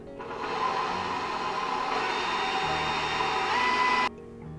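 Stand mixer churning biscuit dough, a steady whirring motor hum running for about four seconds before cutting off abruptly, no talking.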